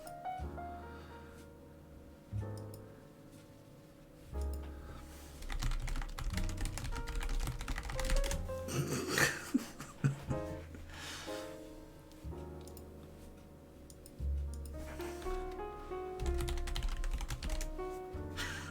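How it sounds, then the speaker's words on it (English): Keys clack on a computer keyboard in irregular bursts of close, crisp typing, running under background music across the whole stretch. "Yeah, I know the typing is bad."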